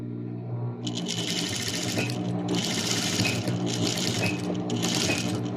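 Sewing machine running straight stitches through the layers of a three-piece quilt, with a steady mechanical hum and several rapid stitching bursts close by, no speech over it.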